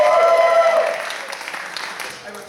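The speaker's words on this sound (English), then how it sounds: "give a big round of applause to everyone" Clapping from an audience, loud at first and then thinning out as the applause fades, with some voices mixed in.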